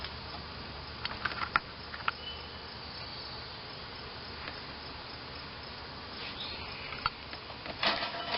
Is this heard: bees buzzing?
yes